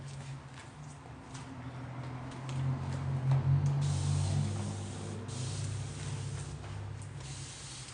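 Spray bottle misting water over a curly deep body wave lace wig, a soft continuous close hiss of spraying with faint rubbing underneath and no talk.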